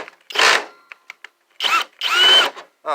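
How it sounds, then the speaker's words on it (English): A power drill whirs in several short start-stop bursts, removing the power supply screws from a computer tower, spinning up and down close by, with brief clicks between the bursts. "take my drill and get the power supply out"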